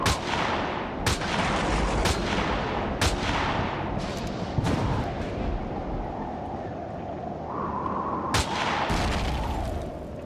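Sentry guns in the Empyrion Galactic Survival space game fire in sharp, repeated loud bursts over a continuous roaring rumble.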